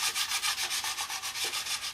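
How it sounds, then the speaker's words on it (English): A fine sanding stick rubs over a plastic 1/48 Airfix Canberra scale model part in quick, even back-and-forth strokes, a close, regular scratchy rasp with no voices. "Okay, and then we can come in with a finer sanding stick, just in like this"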